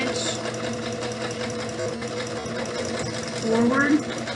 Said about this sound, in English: I'm going to backstitch at the beginning and backstitch at the end as I did before